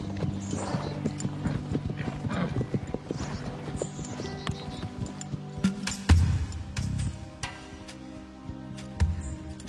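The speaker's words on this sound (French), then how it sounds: "Regardez, voilà Diablo, avec un autre cheval." Horse hooves clip-clop in an uneven rhythm with a brief whinny and some clinking tack, close by and moderately loud, without speech.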